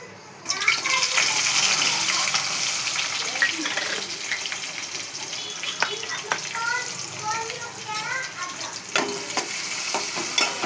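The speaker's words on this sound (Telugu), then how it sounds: "ఇవి గోల్డ్ కలర్ వచ్చేదాకా వేయించుకోవాలి" Onions and green chillies frying in hot oil, with a steady sizzle running throughout and scattered scraping stirs from a utensil, heard close with no talking.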